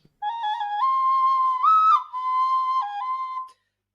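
Sustained whistled melody from a souvenir toy whistle instrument, clear and close, several held notes with small pitch steps and a brief higher jump, played alone with no talk.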